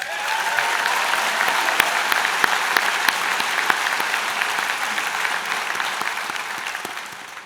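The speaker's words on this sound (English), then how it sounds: "Give yourselves a round of applause." Graduates at a Mohawk College business school convocation applaud themselves, a loud, continuous wash of many hands clapping from a large seated crowd, steady throughout with a few sharper individual claps.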